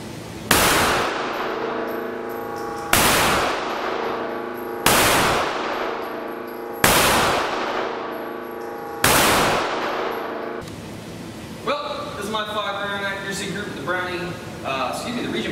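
A Tisas Regent BR9 9mm pistol firing Blazer Brass 115 grain ammunition at a range: five sharp, loud shots spaced about two seconds apart, each ringing briefly, followed by softer clanking and handling noise.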